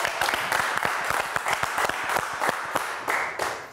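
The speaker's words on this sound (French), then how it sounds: "On peut l'applaudir, Enzo, pour son défi." A live audience claps together at a French comedy show, a dense, lively burst of close applause with rapid overlapping claps that continues steadily and tapers slightly toward the end.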